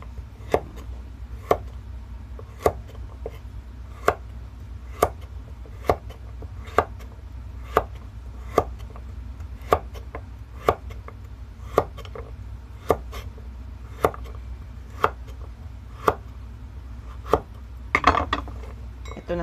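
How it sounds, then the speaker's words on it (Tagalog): A kitchen knife slices ingredients for tonjiru soup on a cutting board, with crisp, evenly spaced chops landing roughly once a second, close and fairly quiet, plus a small clatter of utensils near the end. "Tapos, hiwa-hiwain natin."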